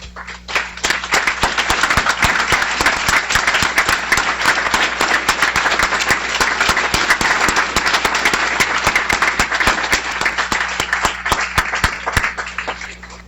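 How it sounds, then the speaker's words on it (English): Sustained applause from a large crowd at a guide dog class graduation, steady dense clapping that carries on for over ten seconds before starting to thin out. "please stand up so we can give you a well-deserved round of applause"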